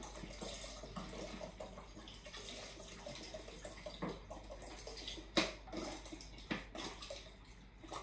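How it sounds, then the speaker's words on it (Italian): Denatured alcohol is poured into a bowl for homemade hand sanitizer, a faint, steady liquid trickle with a few soft splashes and clinks near the end. "Prendete un litro di alcol, l'alcol denaturato, lo mettete tutto quanto in una ciotola."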